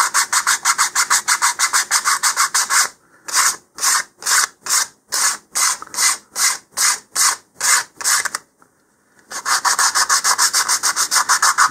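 Steady back-and-forth rasping of sandpaper on a part for a LOC Precision Iris 2-inch model rocket, close and rhythmic, with one brief pause partway through before the strokes resume.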